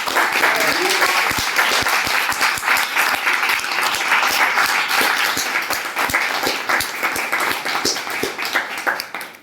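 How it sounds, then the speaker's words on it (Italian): Sustained applause from an audience at a press conference with author R.L. Stine at Lucca Comics, dense steady clapping filling the room for about nine seconds, tapering slightly at the end. "Io farei subito un applauso di interesse"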